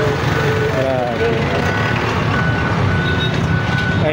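A garbage truck backing up on Claro M. Recto Avenue in Metro Manila sounds steady, evenly spaced reversing beeps over a rumbling engine and busy street noise, fairly close and loud throughout.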